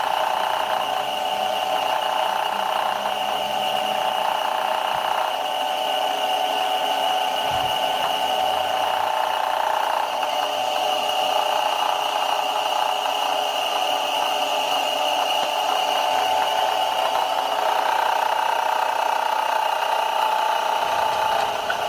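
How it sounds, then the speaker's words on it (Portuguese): A test-rig motor runs steadily at 1800 RPM, a loud continuous mechanical drone with a constant whine and hum and no speech over it. "Ao colocar o nosso equipamento em funcionamento, devemos nos atentar a regular a rotação do motor em 1800 RPM."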